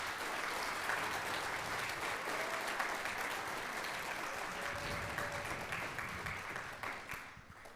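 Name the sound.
audience round of applause for the teachers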